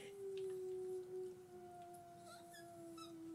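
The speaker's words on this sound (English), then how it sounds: "Brad is not in here yet, but I can hear him howling with Lily." A dog howls from another room in long, sustained, gently wavering tones, faint and muffled by distance, with no talking over it.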